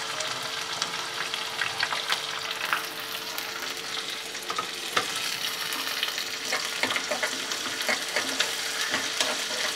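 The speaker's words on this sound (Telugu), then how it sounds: "ఉల్లిపాయలు ఆల్మోస్ట్ వేగిపోయినాయండి" Onions frying with mustard seeds, cumin, curry leaves and green chillies in a pan for dried shrimp with gongura: a steady, dense sizzle with scattered pops and crackles running throughout, close and fairly loud, with no talking.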